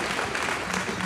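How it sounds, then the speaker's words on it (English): Audience applause for sponsors at a livestock show's grand champion market drive, a brief steady wash of clapping that carries evenly at moderate level throughout. "How about a round of applause to those sponsors that step up to the plate?"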